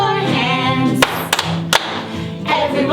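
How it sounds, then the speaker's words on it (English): A few sharp hand claps ring out, spaced irregularly, during a lively children's worship song with singing and music carrying on underneath. "Clap your hands"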